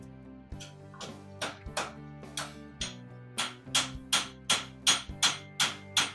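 A blacksmith hand-hammering a hot Sakai forged knife blade, sharp ringing metallic strikes in a steady rhythm, about a dozen blows that grow louder and quicker toward the end.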